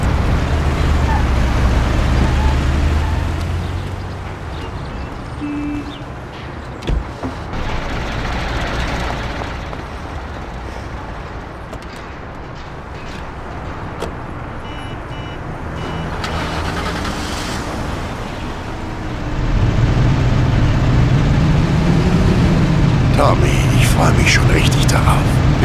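A car driving in the video game Mafia, a continuous engine and road rumble that swells louder near the end, with people talking over it throughout.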